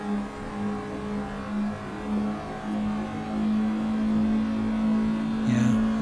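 A race car engine at Donington GP holds a loud, steady, buzzing high note flat out, then the pitch rises slightly and shifts abruptly near the end as the throttle comes off for braking.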